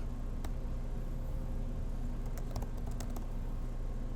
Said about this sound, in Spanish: y le escribimos la contraseña y deberíamos de entrar